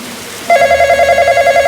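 Telephone ringing in the video game Midnight Train, a steady electronic bell tone that starts abruptly and repeats in a continuous warbling ring, loud and clear with no talk over it.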